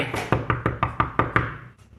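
Seven sharp knocks on a tabletop close to the microphone, evenly spaced and loud, with no voices.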